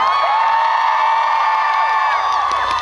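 Festival crowd at an outdoor concert roaring with sustained cheers and whoops, a dense steady wall of voices close and loud with no pauses.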